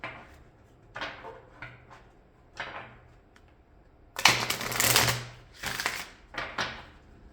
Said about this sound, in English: So let's take an oracle card.